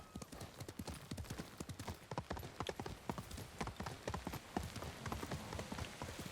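Horse hooves clop at a steady galloping rhythm while riding in the video game Ghost of Tsushima, a continuous, even beat of sharp hoof strikes with no voices.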